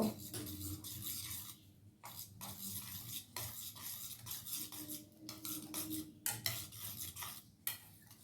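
A spoon stirs dahi raita in a bowl with steady scraping, clinking strokes, close and soft, repeating in quick bursts with brief pauses.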